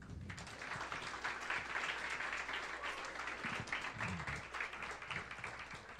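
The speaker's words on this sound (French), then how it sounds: "On peut les applaudir" A festival audience claps for its collaborator, the Festival du Monde de Sherbrooke, with a steady, fairly quiet wash of many hands that keeps an even pace throughout.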